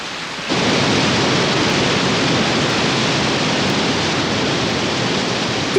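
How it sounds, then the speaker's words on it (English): A waterfall pours in a cartoon scene, a steady broadband roar of rushing water that begins abruptly and holds constant and loud, with no voices. "This is exactly the waterfall I saw in my dream."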